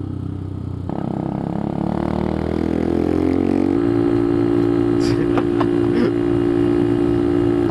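Benelli TNT 125 motorcycle engine droning steadily while riding, its pitch climbing as it pulls through the gears, loud and continuous with wind rush and a few brief clicks near the end.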